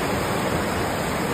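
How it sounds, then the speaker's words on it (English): The San Joaquin River rushes close by on a Pacific Crest Trail crossing, a steady, loud broadband roar of fast water with no pauses and no voices over it. "Here it is, the mighty San Joaquin River."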